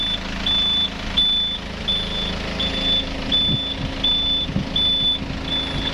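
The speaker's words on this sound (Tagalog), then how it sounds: "Parang forklift diesel." A diesel forklift engine runs steadily with a low rumble while its reversing alarm beeps in a regular repeating pattern, close and continuous throughout, with no talk.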